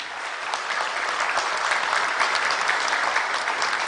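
Loud, dense audience applause for the Chief Minister of Punjab at the Vision Punjab 2022 industry summit, sustained clapping from a large crowd throughout.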